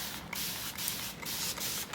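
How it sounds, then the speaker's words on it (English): A hand spray bottle spritzes water onto fabric painted with chalk-based paint in several quick close bursts, nearly continuous with brief gaps between pumps. "then I'm going to spritz it with water"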